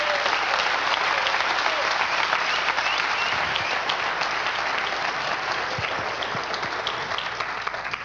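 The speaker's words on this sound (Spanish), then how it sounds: "Ese aplauso sea para el Señor Jesús." Sustained, loud applause from a church congregation fills the space, a dense wash of many hands clapping steadily for several seconds with no pause.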